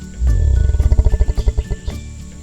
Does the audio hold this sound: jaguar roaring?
yes